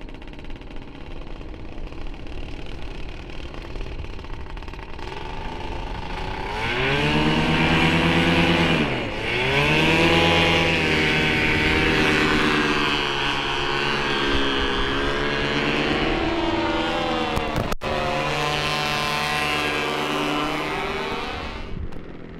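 A paramotor engine tuned for altitude runs loud and close, climbing from a low drone into a strong buzzing whine that rises and falls over and over, with a sharp dip partway through, and no talking.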